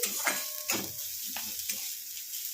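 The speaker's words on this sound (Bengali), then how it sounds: "এটাকে খানিকক্ষণ এরকম ভাবে ভেজে নেব" Bitter gourd frying in a pan for a mustard bitter gourd dish, a continuous close sizzle broken by several quick spatula stirring strokes, no voices present.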